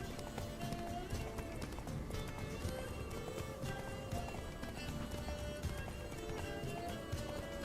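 Galloping horse hooves pound in a steady, rapid rhythm beneath a dense, busy wash of background noise and music, with an occasional whinny, in The Witcher video game.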